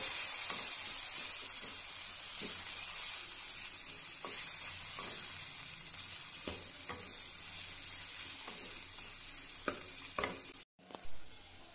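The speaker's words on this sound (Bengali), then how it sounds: "এগুলো সব ভালো করে একসঙ্গে আমি এখন কষিয়ে নেব।" Turmeric, red chili powder and cumin powder sizzling as they are sautéed in hot oil for vegetable khichdi, a steady close hiss with occasional spoon scrapes, cutting out near the end.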